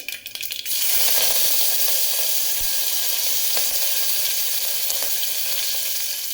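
Asafoetida and curry leaves sizzle loudly in hot oil, a dense, close, continuous hiss that bursts in after a few crackling pops and holds steady, with faint occasional ticks of spatter.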